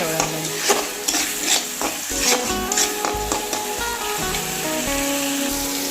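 Cumin and chili powder being stirred as they fry in a pan, with a steady sizzle under repeated scraping and clinking strokes of the spoon against the pan.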